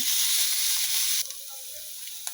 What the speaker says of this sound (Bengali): এখন গাজর আলুগুলো যে সিদ্ধ করে রেখেছিলাম ওগুলো এখন আগে একটু ভাজবো